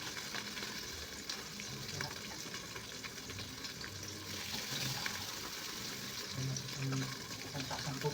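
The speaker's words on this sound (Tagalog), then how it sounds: "Sige, salagyan natin pa ng tubig." Water is poured into a pot of cooking okra, a steady wash of pouring and sizzling noise heard close up while a voice talks over it.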